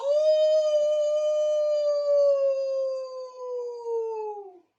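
A voice imitates a wolf howl: one long, clear, sustained cry that slowly sinks in pitch before cutting off.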